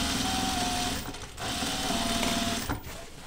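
A sewing machine stitches pull-on jeans using two different thread weights, a fast, close mechanical whirr that runs in two steady bursts broken by brief slowdowns.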